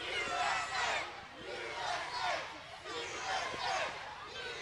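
Wrestling arena crowd at a pay-per-view show chanting USA, rhythmic waves of massed voices rising and falling in repeated bursts, loud and reverberant, with no single voice standing out.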